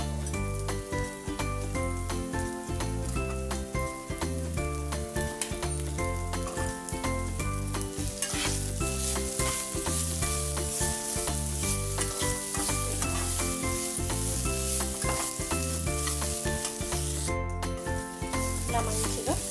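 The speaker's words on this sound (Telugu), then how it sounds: "ఇలా మంచిగా ఫ్రై చేసుకోవాలి." Peanuts, carrot and diced potato fry in a pan for a sago khichdi, giving a loud, continuous close sizzle with repeated scraping and clinking as the mix is stirred.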